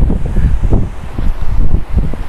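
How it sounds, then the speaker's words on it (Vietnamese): Strong wind gusts and buffets the microphone on a sandy beach at Hồ Tràm, Vietnam, with steady low roaring and a faint wash of surf underneath, and nobody speaks. "Anh chị có thể nghe tiếng gió ha."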